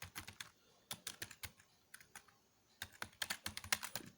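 Fast typing on a computer keyboard, sharp clustered keystrokes in bursts with brief pauses between them, close and clear with no voice.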